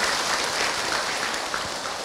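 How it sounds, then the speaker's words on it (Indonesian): Audience applause at an Islamic religious lecture, a dense, steady wash of many hands clapping close and loud for the full two seconds, with no talking over it. "Tepuk tangan buat Ahilman Ibu ya."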